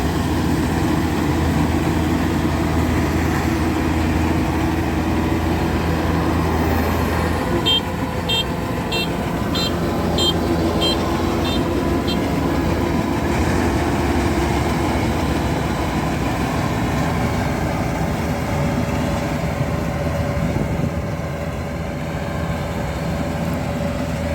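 A DC-93G combine harvester with a newly modified header runs while cutting rice in a field, a loud continuous droning engine and machinery rumble with a brief burst of rapid rattling ticks partway through.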